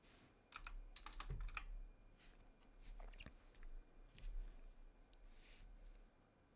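A computer keyboard clacks in quick, uneven bursts of keystrokes, close and fairly quiet, with short pauses between runs and no talking.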